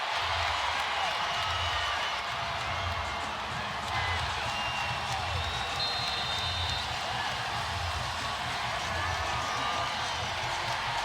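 A women's college basketball arena at a USC versus Mississippi State NCAA tournament game erupts in sustained crowd cheering and applause after a basket and foul, a steady dense roar filling the whole stretch.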